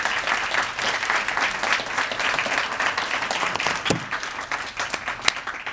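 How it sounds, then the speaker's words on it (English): An audience gives a round of applause for a panel at a conversation event, steady dense clapping from a roomful of people sustained throughout, with a couple of louder individual claps standing out. "let's give another round of applause for our panel"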